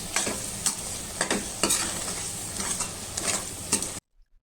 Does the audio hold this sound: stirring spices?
yes